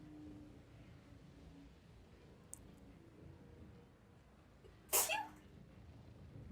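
A single sharp sneeze from someone off to the side, loud and brief, cutting through quiet background hum during a game session.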